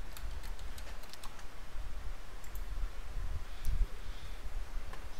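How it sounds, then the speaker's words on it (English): Login credentials are typed on a computer keyboard as scattered, light key clicks in short bursts over a low background rumble, fairly faint, with no talking. "I'm going to type my credential here."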